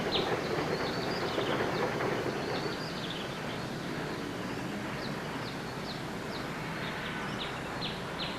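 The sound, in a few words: trolley train backing into a siding off the main line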